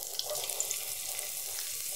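Ginger slices fry in hot oil in a wok, giving a steady, moderately loud sizzle with small crackles throughout.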